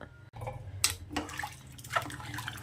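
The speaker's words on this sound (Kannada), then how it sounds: "ಎರಡು ಗ್ಲಾಸ್ ಅಕ್ಕಿ ಹಾಕ್ಕೊಂಡಿದ್ದೀನಲ್ಲ ಅದಕ್ಕೆ ನಾಲ್ಕು ಕಪ್ಪು ನೀರು" Water poured into two glasses of rice for pulao, a close splashing, sloshing pour with a couple of brighter gushes, steady over a couple of seconds, with no talking.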